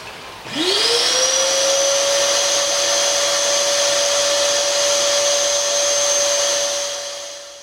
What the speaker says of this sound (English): I've took 3 or 4 inches out, I suppose, through the pond vac, as you can see.